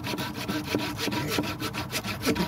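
Wood being sawn by hand with a knife saw while sawdust falls below, a steady back-and-forth rasping with regular strokes, close and loud, with no voices.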